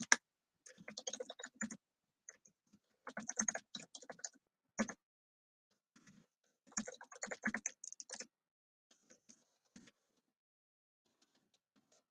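Fingers type on a computer keyboard in short close bursts of rapid clicks separated by pauses, clear against near silence.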